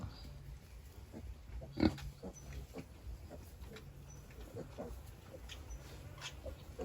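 Wild boars in a farm pen, sows with newborn piglets, squeal and grunt in scattered bursts, with one louder squeal standing out from the steady low rustle of the pen.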